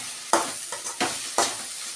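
Ridge gourd peel cooking in a covered pan, giving a steady faint sizzle with four soft stirring scrapes spaced across the moment, close by and alone.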